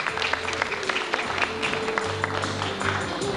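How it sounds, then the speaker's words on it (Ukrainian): An audience at a children's creative festival award ceremony claps for the participants, a steady moderate patter of hands with a faint tonal hum underneath, no voices over it. "І ваші оплески нашим учасникам."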